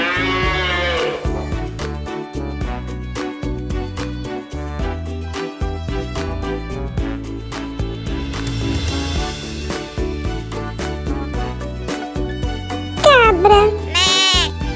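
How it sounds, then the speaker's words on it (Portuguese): A farm cow moos loudly twice, a long lowing call at the start and another near the end, over bouncy children's background music that plays throughout. "Vaca."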